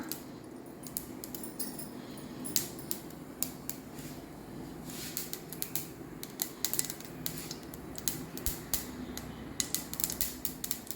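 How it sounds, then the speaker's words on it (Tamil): Mustard seeds spluttering in hot oil in a kadai, a quick irregular crackle of sharp little pops, close and faint over a low background hiss. "கடாய் வச்சு ஆயில் ஊற்றி வச்சுருக்கேன்னா கொஞ்சம் கடுகு தாளிச்சுக்கலாம்"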